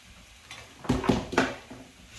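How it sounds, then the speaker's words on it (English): Spices being stirred into vegetables for a curry: a spoon scrapes and knocks against the pan in a few quick clatters, fairly close and moderately loud in a quiet kitchen. "Give it a stir so they all cover the veggies"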